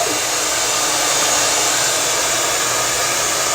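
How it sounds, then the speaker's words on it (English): A hair dryer runs continuously at close range while blow-drying damp hair, a steady loud broadband whoosh with no breaks. "And then I blow dry this way a little bit."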